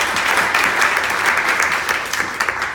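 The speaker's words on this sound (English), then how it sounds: "and give yourself applause." Audience of women in a room applauding together, a steady dense wash of clapping close and loud throughout, with no talk over it.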